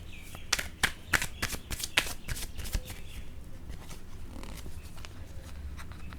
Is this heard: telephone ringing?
no